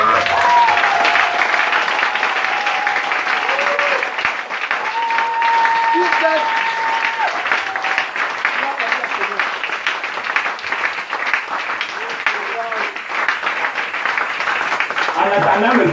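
A church congregation claps louder at a service, a steady, dense applause that fills the whole span, with sustained musical tones and voices mixed in on top.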